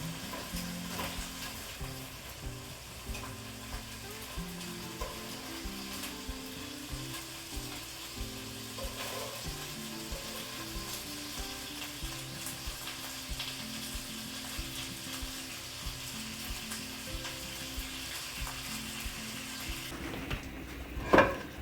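Bacon sizzling and frying in a pan as it crisps, a dense steady crackle and spatter that runs continuously at moderate level, with a brief clatter near the end and no talking.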